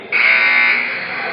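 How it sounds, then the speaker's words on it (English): A basketball scoreboard buzzer at a junior varsity game sounds one loud, steady, harsh tone that holds for over a second and eases slightly toward the end. "We have a buzzer issue."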